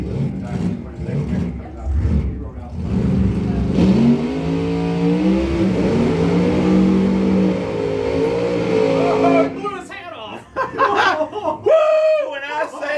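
A drag racing car at the staging lane of a rockabilly hot rod reunion at a raceway, its engine loud and close, revving up and holding a rising, wavering roar for several seconds before cutting off, with people talking and cheering around it.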